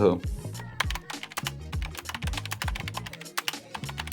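Rapid clicking of computer keyboard keys during a Ukrainian studio show, a steady run of sharp taps under a man's speech throughout.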